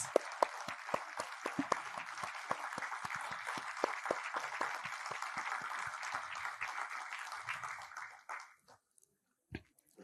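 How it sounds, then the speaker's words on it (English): Applause from a meditation gathering audience, a dense stretch of clapping lasting about eight seconds with sharp individual claps standing out early, then fading quickly into near silence with a couple of stray claps. "A big round of applause, my dear friends."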